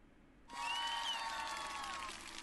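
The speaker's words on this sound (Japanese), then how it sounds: "周りの男女が全員立ち上がり拍手を始めます。" Applause from a room full of people standing up, used as an effect in a tabletop roleplaying session, starts suddenly after a brief quiet and holds at an even level until the end.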